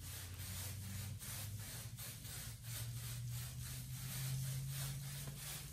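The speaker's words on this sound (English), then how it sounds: "So we're gonna brush from here over to here." A brush scrubs dust off an untreated, dusting plaster masonry wall in steady back-and-forth rasping strokes, close and fairly quiet, with no talk.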